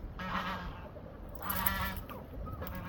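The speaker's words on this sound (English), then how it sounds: "Naked neck rooster." A naked neck rooster calls twice in a rainy garden, each call a drawn-out harsh cry, close and fairly loud over a steady hiss of rain.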